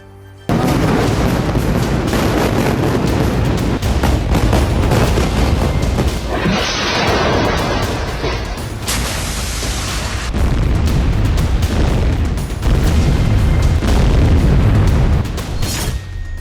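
Loud, dense explosions and bursts of gunfire fill a Gaza war zone, with booms and crackling blasts piling up continuously, some sharp pops standing out and a brief harsher burst partway through.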